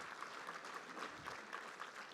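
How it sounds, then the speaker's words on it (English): A homecoming gala audience claps in a faint, distant wash with a steady, slightly pulsing rhythm throughout, no voices standing out. "Give them a round of applause."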